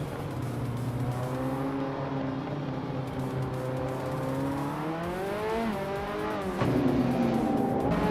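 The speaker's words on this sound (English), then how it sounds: "Dale Earnhardt is driving a 1993 McLaren F1 and is currently in 8th place." A 1993 McLaren F1 in a racing game: a steady engine drone with rising and falling pitch as the revs shift, continuous and loud, with a sharp gear change near the end.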